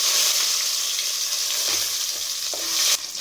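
Dried red chilies, curry leaves and coconut pieces frying in hot oil for a Kerala-style roasted beef curry, giving a loud, steady sizzle with faint stirring throughout and no talk.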